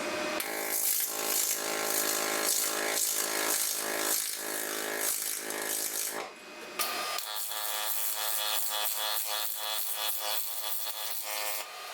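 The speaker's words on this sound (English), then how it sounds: "This pulse makes it really nice to be able to weld thin materials." Pulsed MIG welding on thin metal of a zero turn mower exhaust, a steady dense buzzing crackle held close and loud for several seconds, with a brief break partway through before the arc resumes, no talking.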